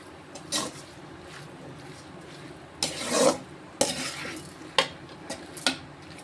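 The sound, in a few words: stirring chapathi noodles in a pan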